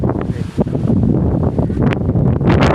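Strong gusts of wind buffet the microphone during a dust storm in a village, a loud continuous roar and rustle with no clear pauses.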